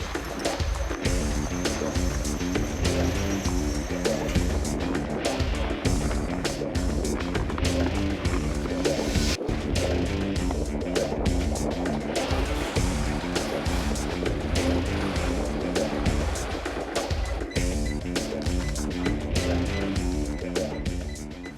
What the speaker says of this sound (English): This Kevlar reinforced hull allows them to travel right across the ice.